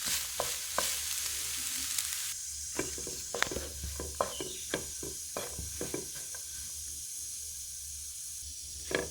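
Cooked rice being stirred and mixed in a hot frying pan, with a steady sizzling hiss broken by repeated sharp scrapes and clicks of a spoon against the pan, close up and with no talking.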